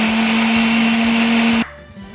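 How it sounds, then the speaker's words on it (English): Kitchen blender whirring loudly and steadily, a strong motor hum while blending chicken, then cutting off abruptly near the end to leave quieter room sound. "Here we turn a little bit more the blender."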